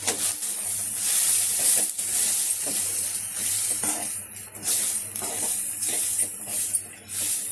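Garam masala and coriander powder with turmeric heating in a pan of oil, a steady close hiss of sizzling broken by intermittent clinks and scrapes of a spoon stirring.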